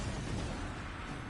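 Artillery explosion in a video game, a loud, dense rumbling blast that fills the whole clip with heavy low-end roar and broadband crackle, sustained without a break and with no talking.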